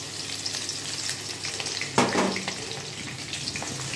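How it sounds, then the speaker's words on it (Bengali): Chopped ginger and garlic fry in hot oil for chilli chicken, a steady close crackling sizzle with a sharper burst as the pieces hit the oil midway. "এবারে এই তেলের মধ্যে আমি এই আদা কুচি আর রসুন কুচিটা দিয়ে দিলাম।"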